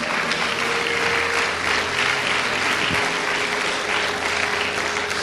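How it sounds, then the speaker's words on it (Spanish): Church congregation applauding during a sermon, a loud, dense and unbroken wall of clapping with a faint steady hum underneath, unchanged throughout. "apláudale bien al Señor si le va a aplaudir"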